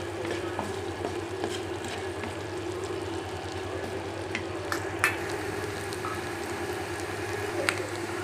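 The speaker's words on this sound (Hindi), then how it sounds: "पहले प्याज फ्राई करेंगे।" Onions frying in a pan for a masala okra dish, with a steady soft sizzle and crackle and occasional brief pops, close and even throughout.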